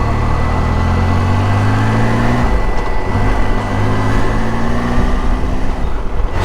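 Triumph Tiger motorcycle engine running close by, a steady loud hum with a shrill edge and a slight shift in pitch partway through, heard alone.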